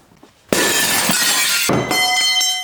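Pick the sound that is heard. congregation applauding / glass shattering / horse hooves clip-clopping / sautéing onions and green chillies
glass shattering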